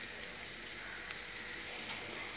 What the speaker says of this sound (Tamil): தண்ணி கொதிக்க ஆரம்பிச்சிருச்சு